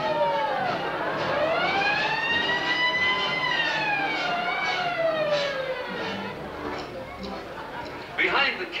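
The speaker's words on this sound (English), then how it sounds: "A wild ride with a hook and ladder company through the streets of Los Angeles." A fire engine siren from a hook and ladder company wails through Los Angeles streets, rising and falling in long sweeping tones that stay loud and continuous, with a brief noisy clatter near the end.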